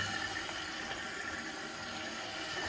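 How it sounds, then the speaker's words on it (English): Steady rushing and hissing of water filling an American Standard toilet tank, constant and close, with no voices. "We want to let this thing fill up"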